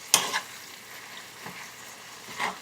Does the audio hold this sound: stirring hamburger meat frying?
yes